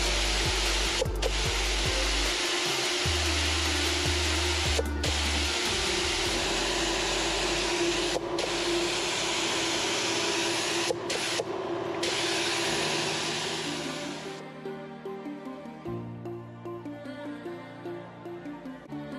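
Spray gun hissing steadily as paint goes onto a 1957 Chevy, a loud continuous spray with a few brief pauses, then stopping and leaving a quieter rattling tail.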